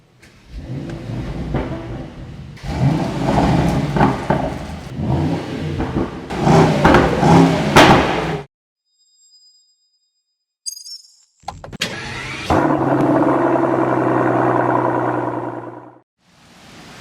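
A 2022 Mercedes-AMG SL55 with a V8 engine revs loudly in repeated bursts, drops to near silence, then gives a sharp blip and settles into a strong, steady roar.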